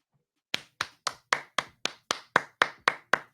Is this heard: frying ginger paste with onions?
no